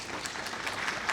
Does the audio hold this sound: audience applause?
yes